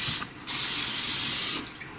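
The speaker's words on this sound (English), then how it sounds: "spray your Pizzelle maker with a little nonstick spray" Two hissing bursts from a nonstick cooking spray can onto a pizzelle maker, a short spray followed by a longer steady one, close to the microphone.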